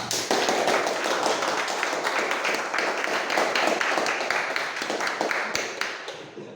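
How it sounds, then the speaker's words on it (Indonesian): A classroom of students claps for a group that has just presented, a steady, busy patter of hands that carries on for several seconds and tapers slightly at the end. "Aplaus semuanya. Tepuk tangan."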